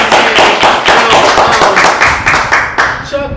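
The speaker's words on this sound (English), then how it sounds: "Clap it up for that." A studio audience claps steadily and loudly at close range, with dense overlapping hand claps and faint voices mixed in.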